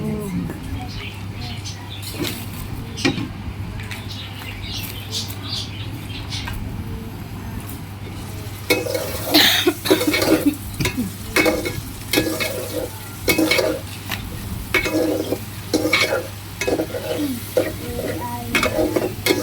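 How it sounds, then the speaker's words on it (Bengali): Soaked lentils frying in a pan, a soft sizzle at first, then louder repeated spatula scrapes and stirring strokes from about the midpoint; a voice is heard faintly in the background. "ভালো করে নাড়াচাড়া করে ভাজা ভাজা করে"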